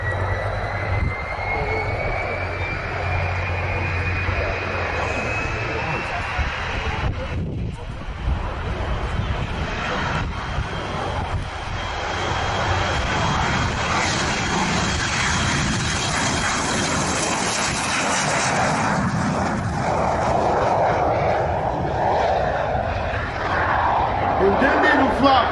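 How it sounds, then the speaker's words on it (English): De Havilland Vampire jet, WZ-507, taxiing onto a runway, giving a loud sustained engine roar with a high whine that slides upward and then holds steady throughout, with no pauses or gaps. "That's when a Vampire WZ-507 taxied onto the runway."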